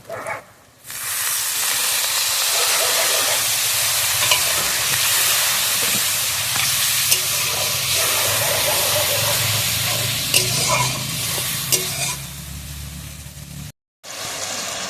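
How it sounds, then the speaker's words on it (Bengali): Loud, steady sizzle and hiss of spiced fish head curry frying in a hot pan, made with catla fish head and rice, after a splash of water is added, continuing with stirring scrapes and a brief cutoff near the end. "দিয়ে দেবো হালকা করে একটু জল"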